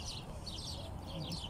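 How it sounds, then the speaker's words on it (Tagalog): Birds chirp overhead at a tower plaza in Kuwait, with quick repeated high tweets standing out over a dense, steady wash of outdoor ambient noise. "ang daming ibon ha"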